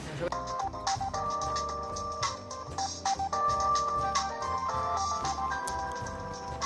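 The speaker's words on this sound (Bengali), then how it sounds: "রিং হচ্ছে রিং হচ্ছে। স্পিকারে দাও।" A telephone ringing on speakerphone in a drama scene, its repeated electronic ringtone tones carrying steadily over a bed of background music and room sound.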